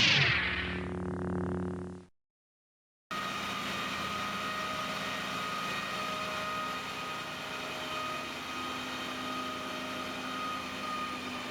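A heavy truck engine running on a dyno, a loud steady droning roar with strong harmonic hum that cuts out briefly, then resumes and holds constant, with no talk.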